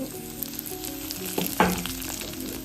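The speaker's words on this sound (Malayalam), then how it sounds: "മുളകിട്ട് കൊടുക്കണം." Chillies hitting hot oil already holding garlic and ginger for an Onam Sadya vada koottu curry, giving a close, steady sizzle and crackle with a brief louder spatter midway, no voices.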